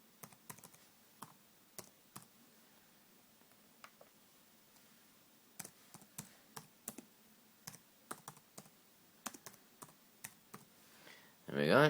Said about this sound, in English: type password